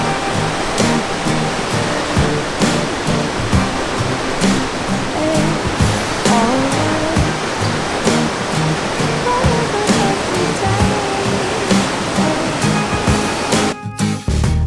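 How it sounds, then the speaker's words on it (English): Hidden Falls in Grand Teton National Park roars steadily as a heavy, fast flow of water pours over it, a loud, continuous rushing that fills the whole stretch without a break. "The amount of water that's coming over it and how fast it is unbelievable."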